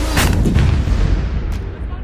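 A towed M777 howitzer fires, a loud deep boom that rolls out into a long, fading rumble.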